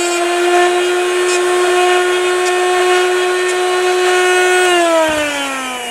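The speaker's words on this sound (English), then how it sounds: "Let's sharpen a masonry bit." A Drill Doctor 750SP sharpening a carbide masonry drill bit makes a loud, steady whine that holds for several seconds and then dips in pitch near the end, heard close and alone.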